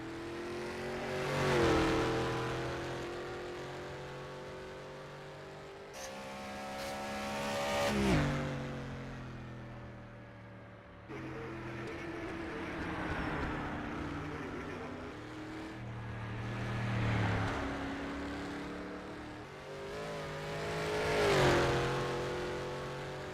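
Historic race cars on the Isle of Man time trial course, engines rising and fading as each one passes downhill into a right-hander, with gear changes and strong revving, loud at each pass and then falling away.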